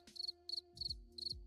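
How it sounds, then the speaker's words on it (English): A cricket sound effect: four quick chirps, each a brief high trill, repeating evenly over a faint low hum. "Wow. A cricket."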